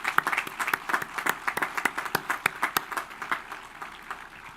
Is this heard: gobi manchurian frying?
no